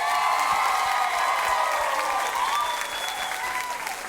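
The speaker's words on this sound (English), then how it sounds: "Can we give a big round of applause for the person who just really made today possible?" A crowd gives a big round of applause, loud sustained clapping that carries evenly throughout, with a faint whistle or cheer rising through it.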